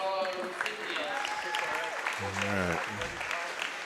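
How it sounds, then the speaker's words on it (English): Applause from a crowd at a senior games sports event honoring award recipients, steady broadband clapping throughout with an announcer's voice and other talk layered over it. "round of applause for all our recipients"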